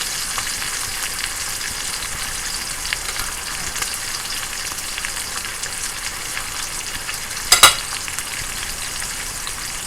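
Strips of bacon frying in a pan, giving a dense, continuous crackling sizzle for the whole stretch, with a brief sharper clatter near the end and no voices.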